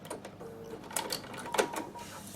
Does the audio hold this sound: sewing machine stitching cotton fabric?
yes